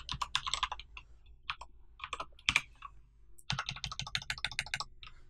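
Code is typed on a computer keyboard in quick bursts of crisp, close key clicks, with a pause in the middle before a longer, faster run of keystrokes.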